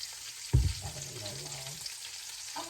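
An onion hits a hot pan for pancit noodles with a sharp crackling burst, then settles into a steady, softer sizzle that fades toward the end.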